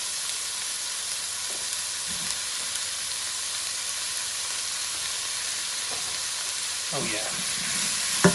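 Cherry tomatoes and rosemary frying in a pan, a steady broadband sizzle with a few brief clatters as the pan is tossed, and a short remark near the end.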